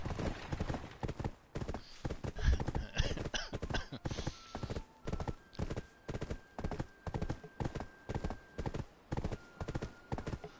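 Rhythmic clip-clop of hooves as a horse walks at a steady pace in the video game Black Desert, close and clear, with faint tonal sounds in the background.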